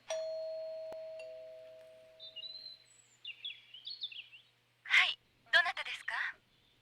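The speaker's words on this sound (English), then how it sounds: "I'll ring the doorbell." A front-door doorbell in the Policenauts video game rings with a sustained electronic chime tone, followed by bright synthetic electronic blips and short bursts of game sound.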